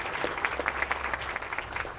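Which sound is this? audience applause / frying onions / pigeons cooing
audience applause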